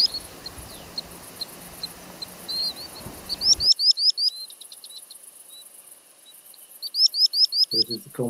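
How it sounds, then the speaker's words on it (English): Common sandpipers give bursts of rapid, high, thin piping calls, each a quick run of five or six notes, clear and fairly close over a quiet outdoor background. "And then we have the common sandpiper coming in."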